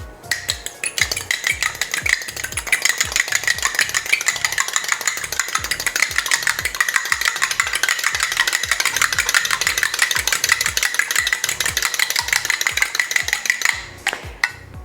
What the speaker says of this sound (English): Now we'll whisk our egg white until it's frothy.